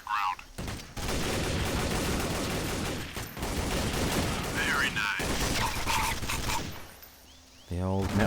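Counter-Strike gunfire rattles in dense sustained automatic bursts with brief pauses, loud and close, with game sound effects and a short voice near the end.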